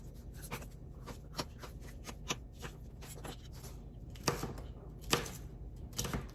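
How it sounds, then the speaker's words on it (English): A knife roughly chops peppers on a cutting board, producing a series of quiet, irregular close taps with a few stronger strikes near the end, and no talking. "Just doing a rough chop, not very small."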